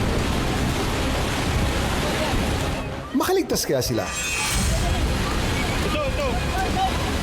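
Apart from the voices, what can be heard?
raging river water rushing past bridge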